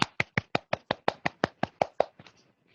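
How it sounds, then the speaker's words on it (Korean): Steady, evenly spaced claps from a church middle-school youth service congregation welcoming its student officers, about a dozen sharp beats that trail off into faint scattered claps at the end. "우리 임원들을 위해서 우리 함께 박수 치면서 맞이하도록 하겠습니다."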